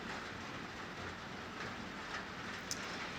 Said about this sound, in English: I'm going to just let the rain be the music in the background.